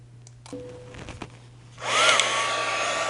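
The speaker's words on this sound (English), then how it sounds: "this is a heat shrink tube device. Works out great for this." A heat shrink tube heat gun switches on and blows hot air in a loud, steady rushing whoosh that swells up after a quieter moment of faint handling noise and low hum.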